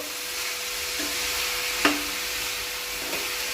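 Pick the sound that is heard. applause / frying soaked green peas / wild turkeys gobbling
frying soaked green peas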